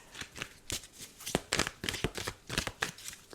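A deck of tarot cards is shuffled close by in a quick irregular series of riffling flutters and soft slaps, repeated bursts with brief pauses between.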